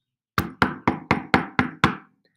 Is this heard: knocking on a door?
yes